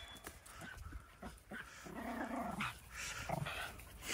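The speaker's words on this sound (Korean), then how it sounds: "으르렁대면서 놀지 마라" Playful dogs growl and grumble at each other during rough play on an outdoor field, a run of low rumbling growls with short yips, fairly quiet and close.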